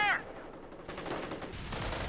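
Rattling bursts of machine-gun fire from the World War II strategy game Company of Heroes, brief and mid-distance, mixed with battle noise and a short game voice line.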